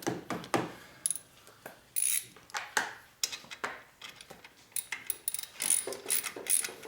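A lever-style ratchet is flipped back and forth by hand while working on a 1983 FXRT Shovelhead, giving close, rapid bursts of clicking in uneven spurts with short pauses between them.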